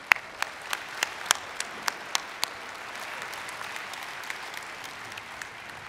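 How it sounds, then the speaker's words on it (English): Scattered clapping from a small audience at a university commencement: sharp individual claps at first, then a softer, steady patter that fades out. "that deserves a round of applause"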